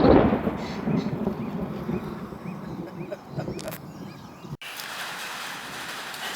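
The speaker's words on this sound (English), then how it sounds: "Morning, we woke up and we heard thunder." Thunder rumbles across a stormy African morning, a broad low roll that swells and fades over several seconds with rain-like hiss and outdoor wind, then a sharp cut to a quieter, steadier background.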